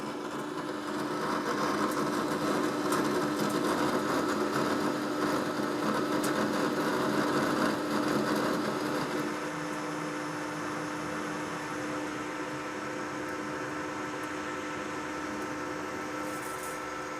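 Steady machining noise with a broadband hiss and a sustained tonal hum as a metal workpiece is cut in big quarter-inch bites. The cut is louder for the first nine seconds, then settles into a quieter continuous whir.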